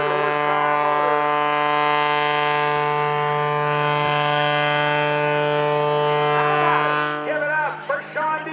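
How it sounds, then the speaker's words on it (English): Sean D. Tucker's aerobatic plane with a three-bladed Marshall propeller and 400 hp engine drones at a military air base open house airshow, a steady, loud, tonal hum that holds for about seven seconds before breaking up into fainter, uneven sound. "hanging it on that three-bladed Marshall propeller and the 400 horsepower motor"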